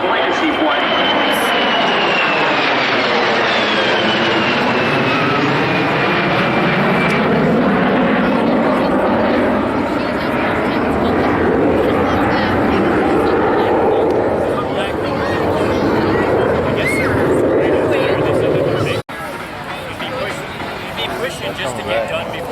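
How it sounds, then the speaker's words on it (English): Navy EA-18G Growler jets roar past at an air show, a loud, sweeping jet rumble that rises and swells as they pass along the show line, with an announcer talking over the noise throughout. "As we watch coming down our show line right now, you can see the aircraft coming by."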